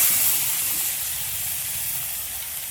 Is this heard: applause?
no